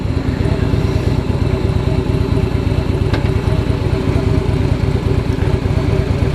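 A 2016 Harley-Davidson Fat Boy S V-twin idles with a steady, loud, low rumble throughout, close up and without pause.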